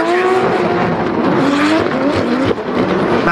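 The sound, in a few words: drift car racing on Rockingham circuit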